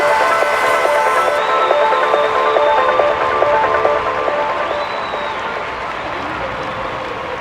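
A crowd in a ski jumping video game applauds the day's three winners with a dense, steady wash of clapping and cheering that holds loud throughout and eases slightly toward the end.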